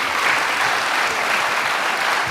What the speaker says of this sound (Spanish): quiero pedirle un doble aplauso a Marcela por estar con nosotros acá.